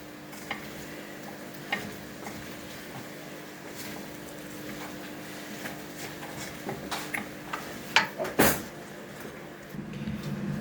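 Potatoes with garlic and salt stirred in a pan, a soft scraping and shuffling under a faint sizzle, with scattered clicks of the utensil against the pan that grow sharper toward the end.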